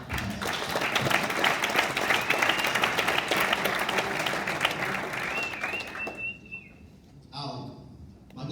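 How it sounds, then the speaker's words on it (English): Dense, loud audience applause at a sales event in Las Vegas, sustained for about six seconds before fading out, with a few scattered claps and whoops as it dies down. "Give them a round of applause."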